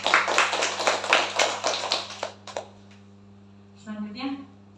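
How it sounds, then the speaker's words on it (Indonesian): An audience at an indoor parenting seminar claps in a brief burst of applause for about two seconds, then fades to quiet under a low steady hum before a voice begins speaking. "Tepuk tangan."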